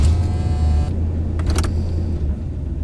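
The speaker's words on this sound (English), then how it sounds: "Actually, wish it would idle normal." An old car that has sat unused for years runs at idle with a steady, low engine rumble, close and loud. A brief higher clatter breaks in midway.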